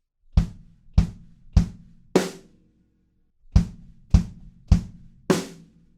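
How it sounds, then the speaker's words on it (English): Drum kit playing a pop-funk groove: two bars of three evenly spaced punchy kick drum hits, each bar closing with a brighter snare crack, loud and close with no other sounds. "if we play kick drums with a snare at the end of the bar"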